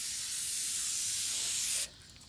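Aerosol can of brake cleaner sprayed in one steady, loud close hiss lasting nearly two seconds, then cutting off abruptly.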